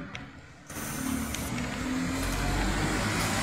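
A bus passes on a street in Newark, starting with a burst of broadband noise and settling into a steady, fairly close engine drone and rumble that builds slightly toward the end.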